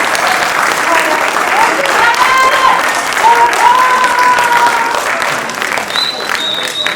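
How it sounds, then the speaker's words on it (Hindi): Loud, sustained audience applause for an actor after his role in a stage play, the stage drama Mukhjatra at a UFNI foundation day event, steady clapping filling the hall throughout with crowd murmur and a faint voice underneath. "जोरदार तालियों से स्वागत कीजिए भरत सिंह बिष्ट का।"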